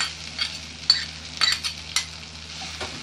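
Chicken fajita strips frying in a pan, a steady sizzle broken by several scraping stirs and light utensil clinks, close and alone with no voices.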